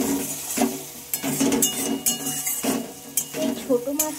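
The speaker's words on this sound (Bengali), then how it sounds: "এবার একটু ভালোভাবে মশলার সাথে আবার একটু মিশিয়ে নেবো বা নেড়ে চেড়ে নেবো" A masala spice mix with a little sugar being stirred in a pan for small-fish masala paturi, with rhythmic scraping and clinks of a spoon against metal and a faint sizzle underneath.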